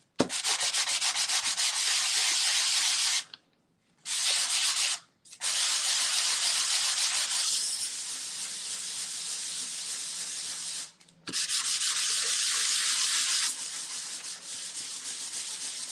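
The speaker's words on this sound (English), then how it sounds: "Let me try this nail file." Harsh scratchy rubbing of a nail file sanding a mixed media collage with oil pastel, long continuous strokes broken by short pauses, close and loud.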